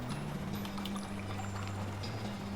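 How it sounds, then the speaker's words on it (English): Boiling water is poured onto a dirt floor in the West of Loathing video game, a steady, faint splashing pour lasting a few seconds over a low background hum. "You pour a little bit of boiling water on the dirt floor"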